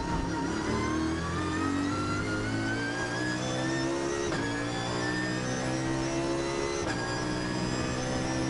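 A BMW race car, number 76, howls through the 2011 Spa 24 Hours, its engine pitch climbing steadily and dropping sharply at two clear gear shifts, loud and close throughout.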